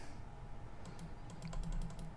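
Computer keyboard keys pressed during a Kerbal Space Program session, a quick run of about a dozen light clicks over a steady low background hum, close and moderately loud.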